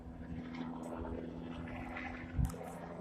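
A police helicopter flies overhead at night, heard as a faint, steady low rotor drone that hums on without a break, with one brief louder thump near the end.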